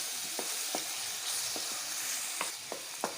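Butter chicken curry sautéing in butter in a pan, a steady close sizzle broken by several light scrapes and taps of a stirring spoon.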